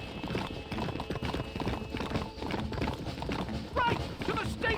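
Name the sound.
horse galloping in video game Red Dead Redemption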